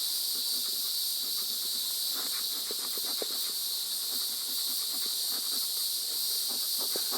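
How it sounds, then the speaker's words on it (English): A beekeeper's smoker hisses steadily close by, puffing smoke over a hive, with soft breathy puffs of air rising and falling underneath. "I like to kind of smoke the bees before I pull off my"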